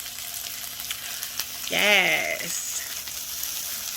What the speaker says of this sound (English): Let my veggies saute just a little bit more.